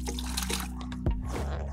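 Three hundred millilitres of water poured into a bucket while making homemade car shampoo, a short liquid splash and trickle heard up close over a steady background hum.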